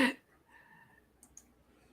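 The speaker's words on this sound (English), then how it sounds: "Sorry if you can hear my clicking" A few quiet computer clicks, one sharper burst at the start and two small taps later, isolated against a faint hum with no talking.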